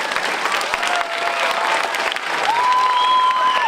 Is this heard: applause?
yes